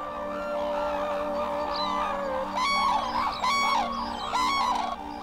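Manchurian cranes in spring courtship give loud, trumpeting honk-like calls, several overlapping bursts rising over a steady background hum, close and strong, with no talking.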